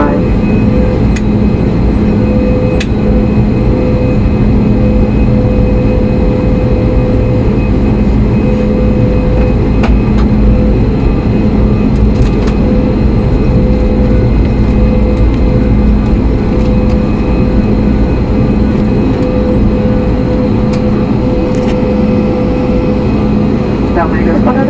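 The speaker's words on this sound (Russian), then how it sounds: "Дамы и господа, наш самолет находится на рулении." Sukhoi Superjet 100 airliner taxiing, heard from inside the cabin as a steady loud engine drone and rumble with a constant whine, running continuously throughout.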